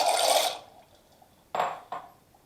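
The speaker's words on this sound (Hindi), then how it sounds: "अब ये मैक्रोनी इसमें मैं उबलने के लिए डाल दूंगा" Dry macaroni is tipped into a pot holding about a litre of hot water: a loud rushing pour, then two short, sharp splashing clatters with quiet pauses between.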